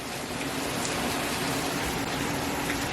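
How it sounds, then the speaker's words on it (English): Steady rain falls outdoors around a vintage RV under brake repair, a continuous dense hiss with scattered drop patter, constant and fairly loud throughout with no voices. "do you hear that rain outside?"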